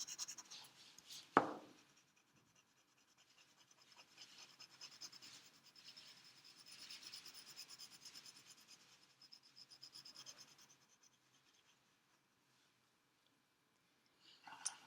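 The side of a graphite pencil shades across paper in soft, faint scratchy strokes, a short burst, a pause, then longer rubbing passes before a final light tap.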